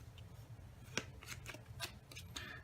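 A deck of playing cards being cut and handled by a magician setting up a stacked deck, giving soft scattered riffles and taps with a few sharper flicks, close and quiet, with no talking.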